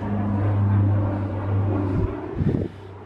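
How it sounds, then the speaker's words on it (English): An airplane flies overhead at Mojave Air and Space Port, giving a steady low droning hum mixed with wind buffeting on the microphone, fairly loud and without speech. "There goes an airplane right there."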